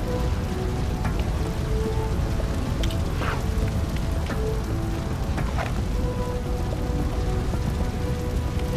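Steady hiss of water spraying onto a fire in The LEGO Movie Video Game, a dense continuous wash like rain on a surface, with a few faint clicks and chimes scattered over it and no talking.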